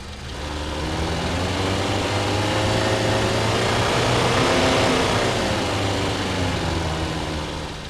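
Synthesized Honda Civic engine sound from a Krotos Igniter car preset, a steady mid-pitched engine drone that rises gradually in pitch and loudness, peaks, then eases back, heard alone.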